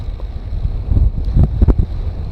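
Wind rushes and buffets past the microphone of a bicycle on a road ride from the Friuli mountains toward the sea at Bibione, riding into a steady headwind, with low gusty roar and a few sharper thumps.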